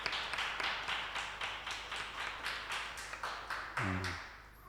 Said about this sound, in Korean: 따뜻한 환영의 박수 부탁드립니다.